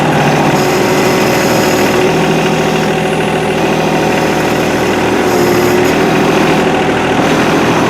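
A bulldozer pushing dirt, its engine a loud, close, unbroken diesel rumble with steady mechanical vibration throughout and no talk.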